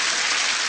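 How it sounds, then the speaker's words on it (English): Studio audience on a game show applauding, a dense, steady wash of clapping that fills the short moment without pause. "Give them a round of applause, audience."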